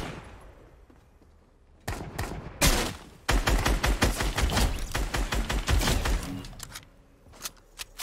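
Rapid bursts of automatic gunfire crack through a Fortnite match, loud volleys and single shots clustering in the middle before trailing off to sparse distant pops.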